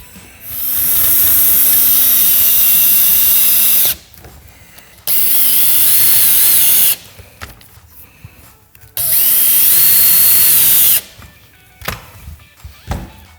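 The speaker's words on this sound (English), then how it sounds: "And then I'm just gonna drive some 1-inch pocket hole screws through those adapters." A power drill drives 1-inch pocket-hole screws through adapters into wood. There are three loud, sustained whirring runs of about two to four seconds each, separated by quiet pauses, with the motor pitch shifting as each screw seats.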